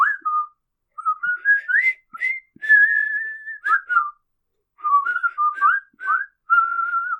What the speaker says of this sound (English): they're whistling